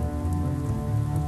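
Steady rain pours onto a surface in a dense, continuous hiss, loud and close, with no voices.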